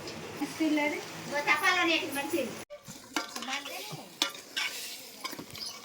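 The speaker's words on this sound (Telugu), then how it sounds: "ఇరవై నిమిషాల తర్వాత ఇలాగ తాలింపు వేసుకోవాలన్నమాట వేసేసుకొని ఇలా చేయాలి" Marinated country chicken being stirred in a pot over a wood-fired stove as the tempering goes in, with a steady scraping, sizzling stir running throughout and a voice talking over the first half.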